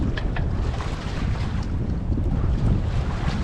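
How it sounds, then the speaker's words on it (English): A sailboat running under its mainsail alone makes a steady, broad rush of wind and water, with hull swish and gusting noise filling the scene continuously and no talking. "But the mainsail is up. We are sailing."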